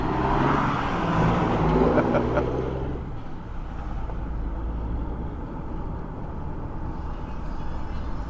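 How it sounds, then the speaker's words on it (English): A truck passes on a road near a bridge construction zone at North Beach in Corpus Christi. The loud roar of its approach builds, peaks and fades within the first few seconds, leaving a steady wash of wind and traffic noise. "Here comes a truck."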